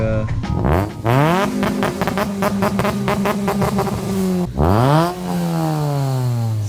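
A car engine revs up hard, holds a loud roaring pitch, dips briefly, then revs up again, close and loud throughout.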